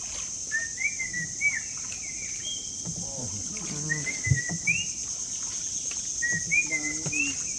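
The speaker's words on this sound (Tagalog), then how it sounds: "Maraming ibon, hindi natin makita kasi tanghali na." Repeated high chirps and short whistled calls from several birds in a mangrove forest along a river in Puerto Princesa at midday, moderately distant, over a soft steady background hiss.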